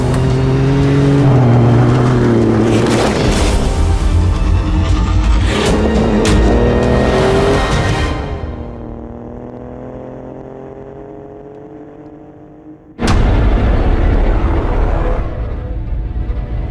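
A 2017 Ford Raptor with its 3.5-liter twin-turbo EcoBoost engine revs hard and loud, then the roar fades into a falling hum before a sudden burst of engine noise returns near the end.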